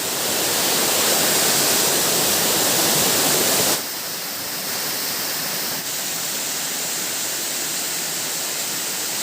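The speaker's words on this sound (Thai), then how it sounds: "เรามาถึงตรงบริเวณของน้ำตกสลัดใดนะครับ" Waterfall at Salatdai in Nakhon Nayok, Thailand, a steady broadband roar of falling water close by, loud and continuous, easing slightly partway through but never stopping.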